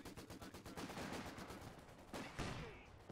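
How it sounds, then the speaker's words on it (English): Machine gun bursts rattle in a Company of Heroes 2 skirmish, rapid repeated shots forming a dense continuous stream that ends in a few louder cracks, with no talk over them. "Got the machine gun stand. Taking good shots."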